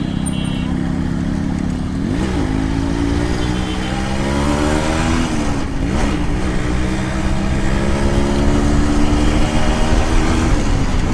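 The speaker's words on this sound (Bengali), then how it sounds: "আর RX সিরিজের 115 এটা খুবই চমৎকার একটি বাইক যা আমি এখন রাইড করছি।" A Yamaha RX 115 two-stroke motorcycle engine buzzes and revs continuously while being ridden, its pitch rising and falling through gear changes, close and loud with wind noise.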